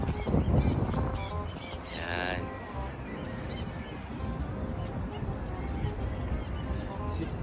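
Honking, goose-like bird calls ring out amid busy outdoor noise, with a brief rising call early on and a short spoken word at the start.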